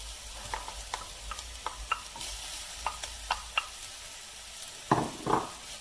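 Onion, garlic and chicken frying in a pan for a baked pastel filling, a low steady sizzle broken by a dozen sharp utensil scrapes and taps, two louder stirring clatters near the end.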